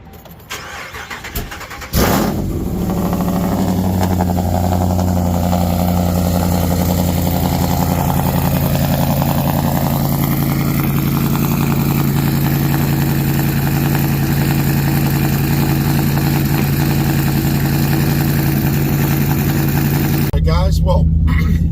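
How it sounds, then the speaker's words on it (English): A supercharged Ram 392 truck engine cold starts with a sharp crank and catch, then settles into a loud, steady, deep idle for the rest of the clip, heard up close. "So we are going to get a cold start in the truck"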